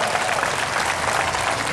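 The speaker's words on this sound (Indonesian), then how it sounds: "Mana tepuk tangannya?" Steady applause from a church congregation at an evening revival service in Sibolga, dense and even throughout the short burst with no individual claps standing out.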